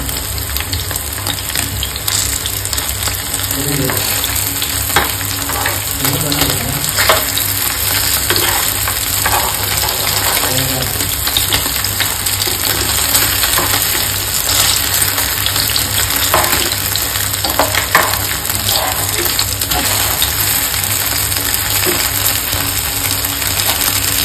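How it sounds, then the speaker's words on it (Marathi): Paneer cubes fry in a small amount of oil for chilli paneer, a steady close sizzle with scattered scrapes and clinks as the pieces are turned, no voices. "तुम्ही अशा पद्धतीने कमी ऑइल मध्ये सुद्धा फ्राय करू शकता"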